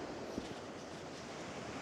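Gentle small waves washing steadily onto a seashore at Portballintrae, a soft continuous surf wash with light wind noise, fairly faint and unbroken, no voices.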